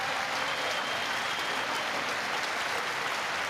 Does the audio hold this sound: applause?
yes